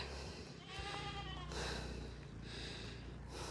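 A goat bleats a few times in wavering, nasal cries over a low background rumble outdoors.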